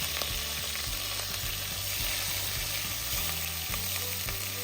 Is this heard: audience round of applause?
no